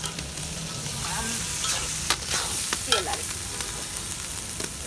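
Onions and spices frying and being stirred in oil in a pot, a steady sizzle with scraping stir clicks and occasional sharp taps, close and fairly loud, with no speech.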